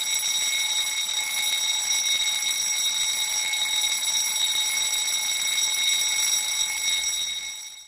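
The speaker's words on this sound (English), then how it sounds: "Internal office alarms sound like this." Internal office fire alarm at a tank storage terminal, sounding as a continuous high electronic tone with strong harmonics, steady and loud for the whole stretch before cutting off at the end.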